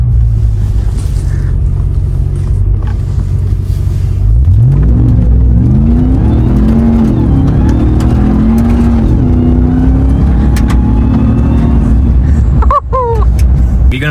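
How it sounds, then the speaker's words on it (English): A Ram 1500 TRX truck launches on a dirt road: a heavy low rumble gives way to a loud rising engine roar as it accelerates hard, gears climbing, with a brief shift near the end. "We're gonna launch the car in this dirt road."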